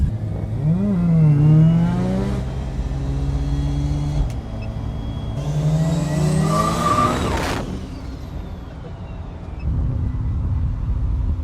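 A rotary-engined turbocharged car making about 550 at 19 pounds of boost revs and accelerates in loud rising sweeps, with brief gaps between pulls as the engine note climbs, drops and climbs again, close and alone without talk.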